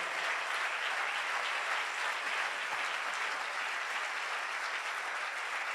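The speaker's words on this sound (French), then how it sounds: "Acclamons Dieu très bien et asseyons-nous." A church congregation applauds in a dense, even wash of clapping that holds steady from start to finish with no voices rising above it.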